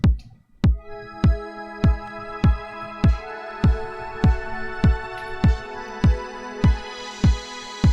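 Casio CZ101 synthesizer pad, a sustained harmonically rich tone under a steady pulse of low, regular kick-like thumps roughly twice per second, loud and alone throughout.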